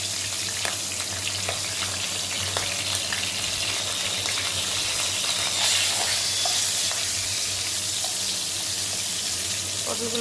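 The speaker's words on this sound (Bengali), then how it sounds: "কড়াইতে তেল বসিয়ে দিয়েছি, এখন পটলগুলোকে ভেজে নেব" Pointed gourd (potol) frying in hot oil in a wok, a steady broadband sizzle with scattered pops and crackles, close and continuous throughout with no talking.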